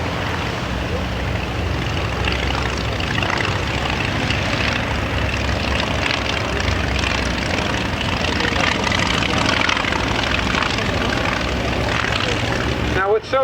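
PBY-5A Catalina engines at a WWII airshow in Virginia Beach, a dense continuous propeller drone that holds steady and loud throughout, with a public-address voice running over it.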